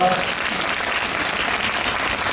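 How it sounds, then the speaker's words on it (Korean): Audience applause fills a film festival Q&A screening at the Bucheon International Fantastic Film Festival (BIFAN 2024): dense, steady clapping from a sizeable crowd, held throughout after a brief voice at the very start. "박수 한번 부탁드립니다."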